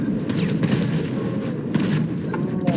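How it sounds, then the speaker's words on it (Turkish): A tank blows up in GTA 5, a deep, rumbling explosion with heavy low-end boom and crackling debris, loud and continuous, with dense battle noise. "Tank patladı."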